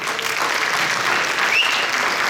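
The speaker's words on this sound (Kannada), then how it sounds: "ಒಂದು ದೊಡ್ಡ ಚಪ್ಪಾಳೆ." An audience at a community chapter event bursts into loud, sustained applause, a dense wash of clapping from many hands filling the whole moment.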